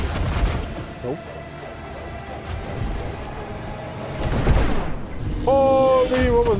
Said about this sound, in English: Holy, what was that explosion?